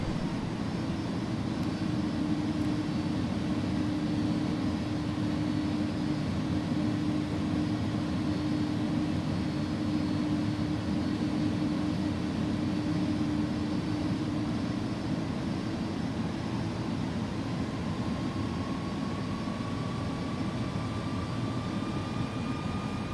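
An iniBuilds Airbus A300F in UPS livery at idle thrust on approach in X-Plane 11, giving a steady, continuous engine drone with a faint whine slowly rising in pitch, unbroken throughout.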